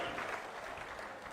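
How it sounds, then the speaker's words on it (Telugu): Applause from a crowd at an outdoor political public meeting in Achanta, a dense, steady wash of clapping at moderate distance with no talk over it. "గట్టిగా చప్పట్లు కూడా చెప్పండి."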